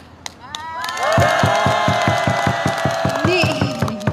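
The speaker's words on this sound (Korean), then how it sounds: "우리 힘차게 함성 한번 질러보겠습니다" A crowd at a candlelight rally against THAAD in Gimcheon lets out a loud collective shout, preceded by a few sharp claps and carried over rapid rhythmic clapping or drumming.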